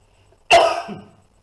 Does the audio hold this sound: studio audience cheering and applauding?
no